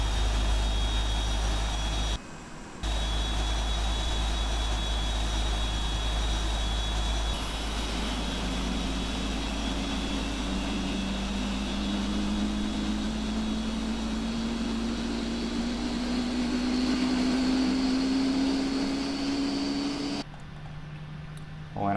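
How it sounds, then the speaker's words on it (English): A PMDG 747-8F's number 3 jet engine spools up in the Prepar3D flight simulator, a loud, steady roar with a slowly rising whine building over about twenty seconds. "we can nicely see engine number 3 firing up"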